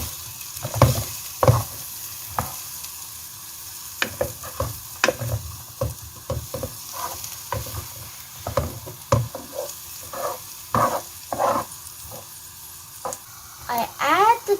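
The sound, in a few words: onions frying in oil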